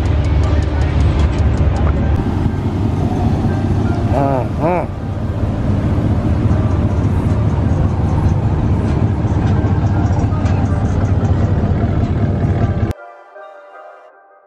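A group of trucks at the 2020 Daytona Truck Meet, among them a 2017 Chevy Silverado High Country with a 6.2L engine, cold starting and idling. A loud, dense, continuous engine rumble runs for about thirteen seconds with voices mixed in, then cuts off abruptly.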